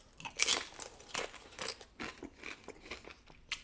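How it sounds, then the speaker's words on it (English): Side chips from Wahoo's crunched while eating, a close, loud series of crisp bites and chewing crackles in an uneven rhythm, with no talk. "I always like getting side chips because then I like dipping them like this and eating it together"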